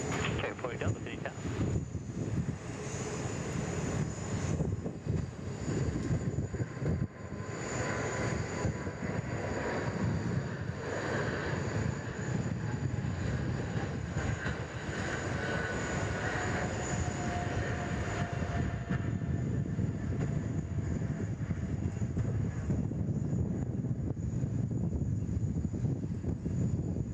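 A United airliner departs Sydney Airport for San Francisco with a long, steady distant jet roar that swells and fades. Wind buffets the microphone and faint voices sit underneath.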